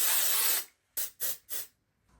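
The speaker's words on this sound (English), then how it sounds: "I'm about to use this texture spray for the first time that I got the other week." A hair texture spray is sprayed indoors: one long hiss, a pause, then three short quick bursts, close and fairly soft, with no talking.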